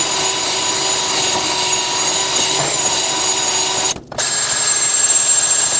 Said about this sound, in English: Here I'm going to use a wire wheel on my drill and just clean all this out